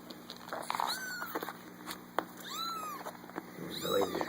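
A kitten meows repeatedly, several short rising-and-falling cries spaced across a few seconds, fairly close but quiet, against a faint background hum.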